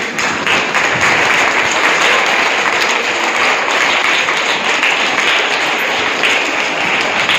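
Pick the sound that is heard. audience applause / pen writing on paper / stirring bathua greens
audience applause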